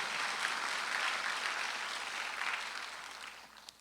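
A church congregation applauds during a Sunday worship service, a steady wash of clapping from many hands that holds for several seconds before tapering slightly at the end.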